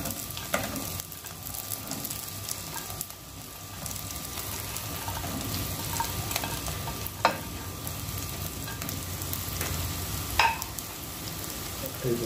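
Tofu fries in a pan over sautéed onions and garlic, a steady close sizzle with stirring scrapes and occasional clacks of a utensil, no talking over it.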